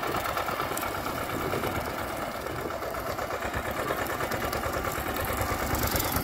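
A T-25 tractor engine running in a potato field while cutting down potato tops, a steady loud rattling diesel chug that continues without break, close and alone with no talking.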